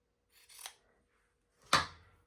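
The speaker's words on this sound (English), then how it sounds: "So I'm going to take my fabric scissors and just eyeball where I would like to cut it." Fabric scissors cut through a brown paper mailer, two distinct crisp snips about a second apart, close and clear against silence.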